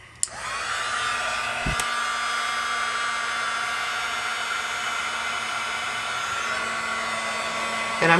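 A heat embossing tool blows with a steady, loud whooshing hiss and whine, running continuously for several seconds while heating painter's tape in a craft setup.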